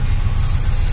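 A train passes close by, its wheels squealing in a continuous loud screech over a heavy rumbling roll along a railway on a rainy monsoon day trip near Mahabaleshwar.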